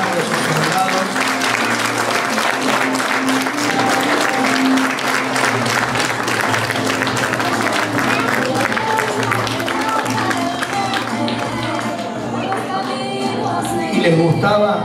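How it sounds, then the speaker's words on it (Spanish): Loud, sustained crowd applause fills the whole stretch, dense clapping from an audience at a kindergarten Flag Day event welcoming a procession of soldiers, with a slight fade near the end. "Fuerte el aplauso para recibir a Manuel Belgrano y a sus soldados."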